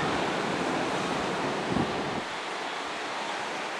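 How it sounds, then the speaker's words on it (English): Strong wind blows across Pensacola Beach, Florida, a steady close rumble and buffeting against the microphone over the wash of surf, with one brief louder gust midway. "Very windy out here today."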